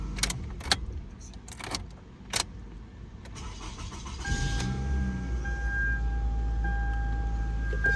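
A 2010 Toyota Camry engine cranks and catches after all-keys-lost key programming, settling into a steady close idle; clicks and key rattles come before the start, and a faint tone is heard over the running engine.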